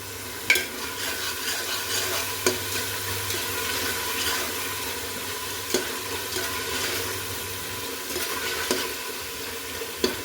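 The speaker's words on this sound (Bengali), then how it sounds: "এটা কিছুক্ষণ কষিয়ে নিব আমি" Spiced chicken with lemon juice sautéing in a pot for morog polao, a steady, close sizzle with frequent stirring scrapes and occasional sharper knocks of the spoon, no voices.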